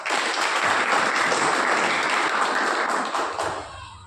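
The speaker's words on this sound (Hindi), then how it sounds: "मैं जोरदार उनका तालियों से स्वागत है।" Dense audience applause welcomes the chairman of a BSP mandal meeting in Ghaziabad. The clapping stays loud and steady for about three seconds, then thins out and fades toward the end.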